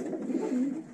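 A racing pigeon gives a soft, low cooing call close by, one short throaty phrase in a quiet loft.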